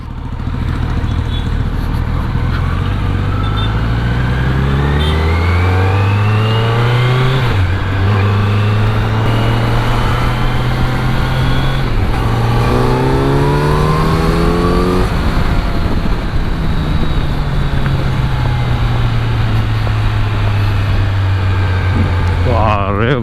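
A superbike engine revs repeatedly during a test ride, its pitch climbing and falling through gears in a loud, continuous roar with wind noise, close to the listener.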